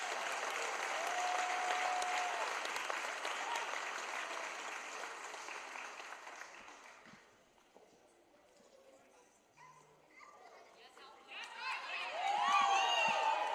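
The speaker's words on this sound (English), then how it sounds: "How about a round of applause for the All-ODAC Awards?" Crowd applause at a women's college volleyball championship awards ceremony fades in and out, dipping quiet midway, then a brighter burst of clapping and cheering swells near the end.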